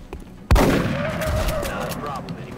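A loud burst of gunfire from XCOM: Enemy Unknown cracks in suddenly after a quiet moment, then trails off into a sustained rumbling echo. It sounds close and forceful.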